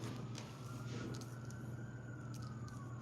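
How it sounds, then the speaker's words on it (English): A siren wails faintly in the distance over a low, steady background hum, its pitch sweeping slowly. "Sirens."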